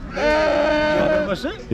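Thin lambs at the Uzynagash livestock market bleat in a long, loud, wavering cry that is followed by a few shorter calls, with market voices close by.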